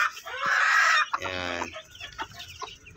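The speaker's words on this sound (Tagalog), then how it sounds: "Tinuturuan na ng inahin." A mother hen clucks close by while teaching her eight black Shamo Asil chicks to eat in a brooder cage, with a loud burst of clucking followed by softer pecking calls as someone speaks briefly.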